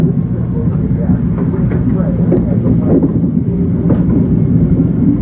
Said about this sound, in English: Number 7 subway passes overhead.